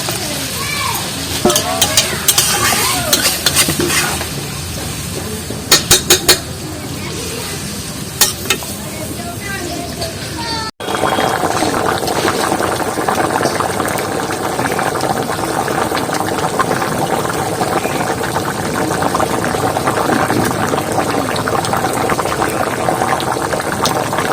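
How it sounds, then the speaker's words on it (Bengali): Yardlong beans and bori cook in a pan as water is added. Stirring clinks and sizzling come first with a voice talking, then a loud, steady bubbling hiss takes over for the rest. "জলটা একটু বেশি পরিমাণে লাগবে যে বড়িটা টেনে নেবে জলটা আর একটু সামান্য জল দিয়ে দেবো"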